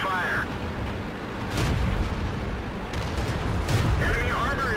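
Tank cannon fire in World of Tanks, heavy booming shots with rumbling engine noise and game voice callouts over a dense, loud battle soundscape.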